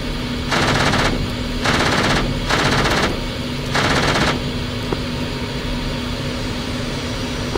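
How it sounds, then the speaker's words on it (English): Four bursts of rapid aircraft machine gun fire in a video game ring out, each lasting about half a second, over a steady engine drone. "Phantom taking gunfire from aircraft."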